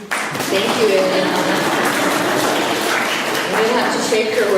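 Audience at a poetry reading breaking into applause, a sustained, moderately loud patter of many hands, with a voice speaking over it.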